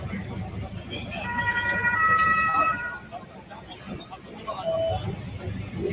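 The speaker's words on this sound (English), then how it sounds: "That's some ambulances and some people wearing uniforms and some trash on the ground." An ambulance siren wails at a distance in Munich, its high rising and falling tones drifting over a steady low rumble of traffic and crowd murmur.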